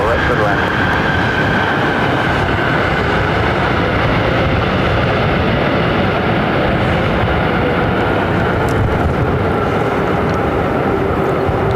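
Continuous roar of an airplane landing at LAX, a loud, steady engine drone with a faint whine that lasts throughout.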